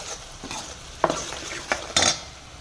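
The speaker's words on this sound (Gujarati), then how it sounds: "સરખી રીતે બધું સાઈડમાંથી બધું મિક્સ કરશું." A spoon scrapes and stirs food around a pan, with irregular bursts of scraping and a faint sizzle beneath, ending in a louder stir. Part of preparing Kathiyawadi kadhi and Ratlami sev. No one talks.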